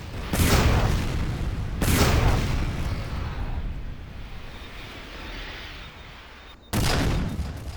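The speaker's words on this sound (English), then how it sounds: "That was one of my rockets." Rocket blasts in the shooter game Doom 3 crash out as deep booming explosions, three loud hits with a rumbling tail fading between them.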